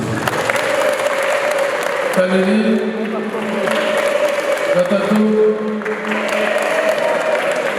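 Wedding guests at a Rwandan gusaba ceremony clap together in a steady burst, with ululation rising over the applause while a voice talks on top.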